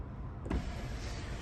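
The electric sunroof of a Mazda CX-5 2.0 GT Sport whirs briefly inside the car as it opens, a short soft motor sound with a faint thump near the start; quiet, no talk.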